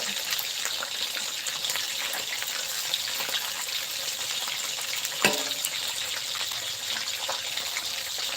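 Fish deep-frying in a pan of oil at home, a continuous close bubbling sizzle with a brief louder spatter partway through, no voices.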